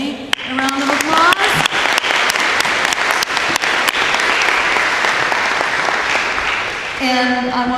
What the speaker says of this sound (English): Can we please give Emily a round of applause?